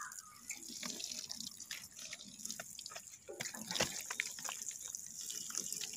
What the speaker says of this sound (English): Now we'll just water this a bit.